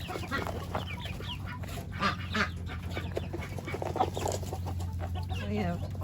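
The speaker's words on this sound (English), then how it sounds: "They're young chicks, they're getting bigger." Young farm chicks clucking and peeping around their feed, a busy cluster of short calls layered over a steady low hum, close and fairly continuous throughout.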